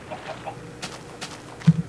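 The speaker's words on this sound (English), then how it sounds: "And there's all of our chickens" Chickens on a farm in a Minecraft-style video game give a few sparse, soft clucks, ending with a brief louder cluck near the end. No voices are heard.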